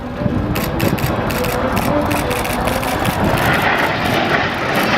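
An F-86 Sabre jet roars past at an air show, a loud continuous rushing jet noise filling the air, with an announcer's voice talking over it.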